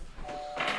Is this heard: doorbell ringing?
yes